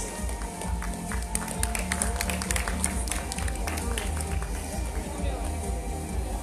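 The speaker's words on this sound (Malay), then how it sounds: "sekali lagi tepukan untuk para finalis Mr. and Miss Petit Sarawak" An audience at the Mr. and Miss Petite Sarawak 2019 semi-final pageant applauds the finalists with steady, dense clapping and crowd noise throughout, over a faint background of music or hum.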